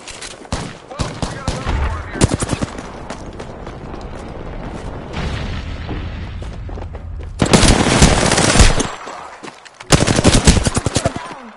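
Gunfire in the Apex Legends video game: rapid automatic bursts and repeated shots across the whole span, loud and close, with a louder sustained barrage near the end and some speech in the mix.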